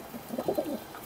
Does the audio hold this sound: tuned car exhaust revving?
no